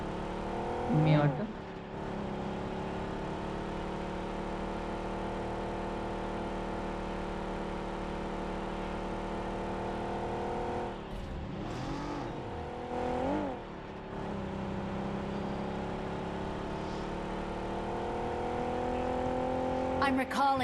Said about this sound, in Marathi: गाडीचा आवाज येतोय